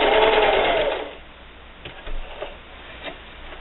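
A sewing machine stitches a quilted Halloween hexagon table topper, running in a loud steady whir for about a second before stopping, followed by faint clicks and handling noises.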